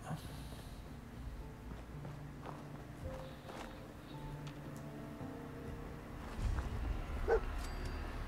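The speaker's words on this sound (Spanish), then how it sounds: "El perro este que nos viene a seguir." A dog in Fallout 4 whimpers and gives a few soft yips and snorts, heard faintly alongside footsteps and game ambience with no talk.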